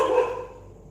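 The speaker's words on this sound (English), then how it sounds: "Sorry about my doggy." A pet dog gives a single short, loud bark-like yelp that fades into a trailing tail, heard close and alone with no talk.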